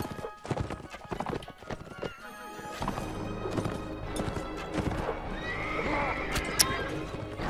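Horse hooves clip-clop and a horse neighs amid the clash of a multiplayer battle in Mount and Blade: Warband, with loud impacts early, the whinny rising later over busy game noise.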